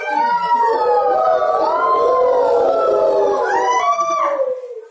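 A voice imitates a bear's growl with a long, loud, wavering howl-like tone, sustained close to the listener for about four seconds before trailing off.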